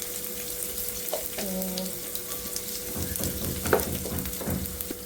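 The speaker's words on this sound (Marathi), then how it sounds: "तेल जरा गरम झालं की त्यामध्ये टाकू आपण, मध्ये असं टाकू लसूण. लसूण टाकलं नाही, त्यामध्ये टाकायचं थोडंसं जिरं." Cumin seeds frying in hot oil in a home kitchen, a continuous soft sizzle with scattered pops and a brief clink of a utensil, close by, no talking.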